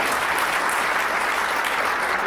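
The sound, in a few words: conference audience applause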